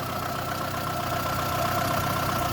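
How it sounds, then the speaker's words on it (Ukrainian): A 2006 VAZ Lada 2110 with a 1.6-litre 8-valve petrol engine idles steadily with an even, continuous hum and faint mechanical ticking, no voices present. "Так що так працює машинка."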